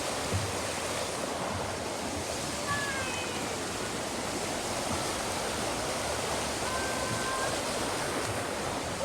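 A clear mountain creek in the Dakotas rushes steadily as a dense, even wash of flowing water close by, with a couple of faint chirps above it.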